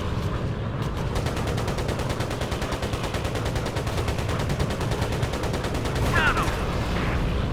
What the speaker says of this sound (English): Machine gun nearly empty.